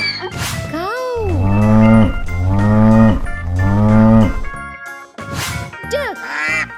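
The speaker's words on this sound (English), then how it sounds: "Cow." A cow moos loudly and repeatedly in close, long drawn-out calls with short gaps between them, like a game sound effect among farm animal noises.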